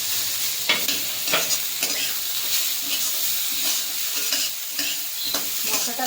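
Chopped onion and a large cut tomato fry in a pan for chicken butter masala, a steady loud sizzle broken by repeated scraping stirs at a regular pace, with no talk.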